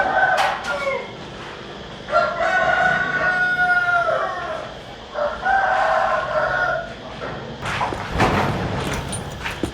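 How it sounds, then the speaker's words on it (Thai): Chickens cluck and a rooster crows repeatedly by a roadside, loud and close, with several overlapping calls across the stretch and a brief bark-like sound near the end. "ไก่แคมทางนะพี่น้อง"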